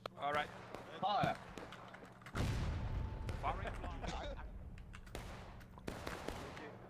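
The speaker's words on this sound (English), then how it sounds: "I thought they were going to fire the gun that was closest to my screen, not the one that was over there." A cannon fires in a historical-rules battle video game: one heavy, booming shot lands about a third of the way in and rumbles away, with brief voices and other battle noise before it.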